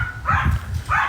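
A big dog barks, three deep woofs with a short gap before the last, fairly close and loud over low background rumble.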